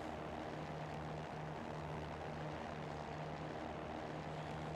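Steady propeller drone of a Cirrus SR20 single-engine plane in the X-Plane 11 flight simulator, a continuous engine hum with a low tonal buzz held evenly throughout, no talking.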